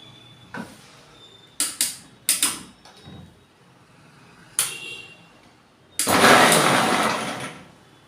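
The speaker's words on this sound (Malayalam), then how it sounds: "ഞാൻ ഗ്രൈൻഡ് ചെയ്യട്ടെ കേട്ടോ" A mixer grinder blending cucumber into juice: a few short mechanical clicks and brief pulses, then a loud, close whirring burst of about a second and a half. No one talks.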